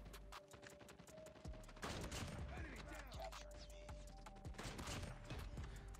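SPR 208 sniper rifle quickscope shots in COD Mobile sound as faint, sharp reports with many quick clicks and mechanical rattles. Quiet game ambience and some muffled talk run underneath.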